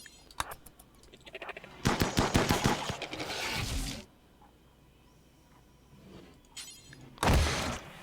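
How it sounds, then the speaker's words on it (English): Assault rifle gunfire in a video game set in dark tunnels: rapid automatic bursts of shots, one long volley in the middle and a short loud burst near the end, with quiet gaps between and no talk. "The power of assault rifles in darkness."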